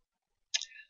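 A computer mouse gives one short, crisp click close by after a moment of silence, with a brief trailing tail and no voice.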